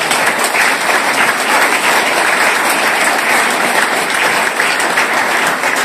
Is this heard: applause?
yes